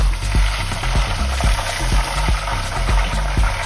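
Wet-aged tomahawk steaks searing cowboy style over a grill, a loud, close, continuous sizzle with rapid irregular crackles and low thumps throughout.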